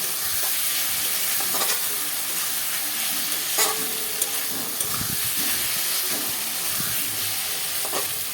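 Pakal fish frying in hot oil with steady loud sizzling and hissing throughout, broken by occasional stirring scrapes and spatters, with no talking.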